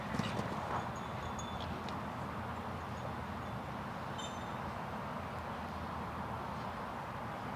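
Hooves of the 10-year-old Selle Français gelding Dorado de Riverland clop rhythmically on arena footing at a 1.40m show-jumping class, steady and moderately close, with faint crowd and ambient rustle behind.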